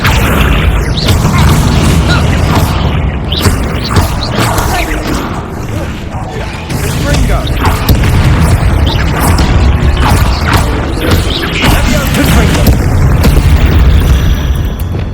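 Spell blasts in the Hogwarts Legacy video game: dense, loud booms, bursts and crashing impacts layered over a continuous rumbling game soundtrack, with a voice calling out spells.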